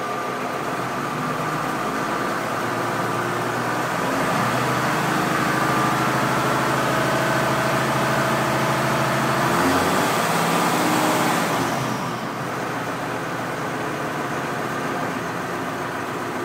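A 1949 Ford fitted with a Cummins diesel engine runs steadily in gear, its low, continuous drone swelling slightly in the middle before settling back, with no talk over it.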